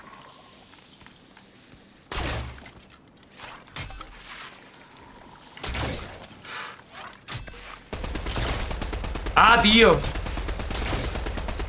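Sharp gunshots from the video game Fortnite crack out in scattered bursts, some quick and overlapping, while someone talks and exclaims in Spanish over them.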